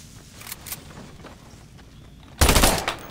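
A burst-fire gun in a video game, a loud rapid cluster of shots near the end after a few fainter pops and clicks.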